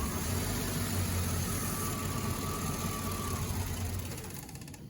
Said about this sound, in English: If I shut off this bottle of hydrogen, this engine will stop running.